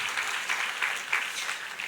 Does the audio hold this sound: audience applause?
yes